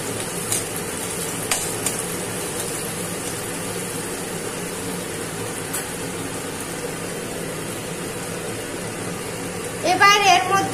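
Scrambled egg with fried onion and green chilli sizzles steadily in a pan, a constant hiss and crackle under a voice, with a brief louder stir or clatter near the end.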